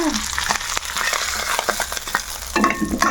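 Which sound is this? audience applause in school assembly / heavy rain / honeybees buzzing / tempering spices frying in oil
tempering spices frying in oil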